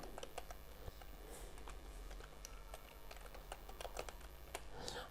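Inline CSS is typed on a computer keyboard, a quiet, steady patter of close key clicks in uneven bursts with no voice over it.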